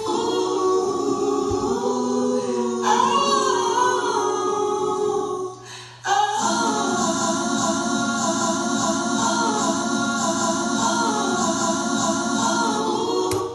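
A looped music sample plays continuously with layered tones, briefly cutting out near the middle before resuming at full level; no voices.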